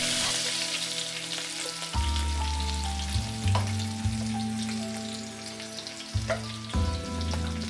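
Steady sizzling and crackling of garlic frying in hot oil, close and continuous, with background music playing throughout.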